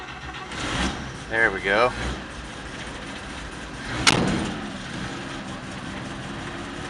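A 1951 Chevrolet pickup truck engine is given a little gas and rises briefly before settling back to a steady idle, close by, with someone speaking briefly over the running motor.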